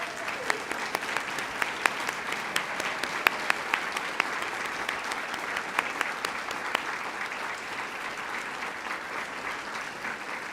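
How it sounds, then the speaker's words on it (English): Audience applause at a school district State of the District event as students stand, a steady broad wash of clapping from a large crowd with sharper individual claps standing out, continuing for about ten seconds at moderate level. "Students, please stand for a round of applause."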